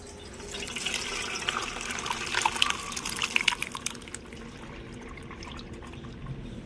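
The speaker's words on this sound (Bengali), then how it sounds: "উপর থেকে অল্প করে জল দিয়ে আমি ছানাটা ভালো করে ধুয়ে নেব" Water poured from above over freshly curdled chhana (paneer) held in a cotton cloth to rinse it, while making nolen gur rasgulla. A steady splashing pour runs for several seconds, then eases to a softer trickle.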